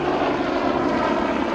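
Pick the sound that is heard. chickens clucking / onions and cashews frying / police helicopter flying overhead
police helicopter flying overhead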